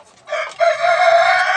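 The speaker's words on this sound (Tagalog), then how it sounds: "Lalong-lalo na sa ganitong mga manok na egg-laying hens." An egg-laying hen gives one loud, drawn-out call, rising after a short opening note and holding steady, close and alone.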